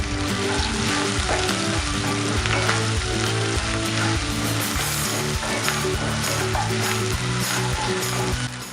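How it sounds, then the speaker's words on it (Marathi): Crushed ginger and garlic sauté in oil in a pan, giving a loud, constant sizzle with light stirring scrapes throughout. "जे क्रश केलेला आलं लसूण आहे ते टाकूया परतून घेऊया"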